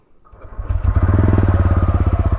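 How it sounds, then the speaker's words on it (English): A TVS Ronin Agonda Edition single-cylinder motorcycle starts up, with a short crank and then a close, loud, steady exhaust note that pulses rhythmically as it settles into idle. "let's hear the exhaust note before going for a short ride on this motorcycle"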